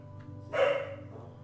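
A single short dog bark from a Minecraft game, one clear yip-like woof over a faint steady background hum, fairly close and alone.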